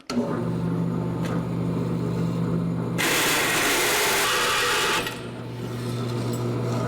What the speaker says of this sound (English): We'll cut as much of this out on the bandsaw as we can.